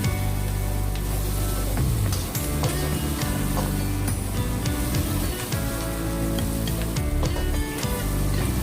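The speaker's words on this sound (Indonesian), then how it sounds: "masukkan yongchung atau bawang bombay. Tumis sampai halus." Onion, or yongchung, sautéing in hot oil in a pan, a steady loud crackling sizzle that runs throughout with no talking.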